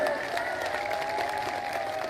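A crowd at an outdoor religious gathering in Indonesia applauds for the sponsor BSI, a steady wash of distant clapping and cheering behind a sustained musical tone.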